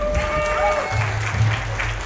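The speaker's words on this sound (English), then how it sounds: "can we please have a round of applause for our Vishwamitra Muni for this afternoon, Panichunilalji" A wedding crowd at a Hindu vivaah ceremony gives a round of applause, a dense even patter heard fairly close, with a low steady hum and faint voices underneath.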